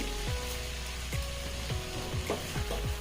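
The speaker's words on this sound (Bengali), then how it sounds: "তারপরে একটু নেড়ে চেড়ে দিচ্ছি" Fried spice masala with a half spoon of sugar sizzles in a pan as a spoon stirs it, giving a constant close hiss broken by repeated scraping strokes against the metal.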